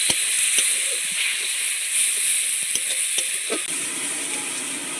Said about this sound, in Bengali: মশলাটা যাতে পুড়ে না যায় তার জন্য অল্প একটু জল দিয়ে দিচ্ছি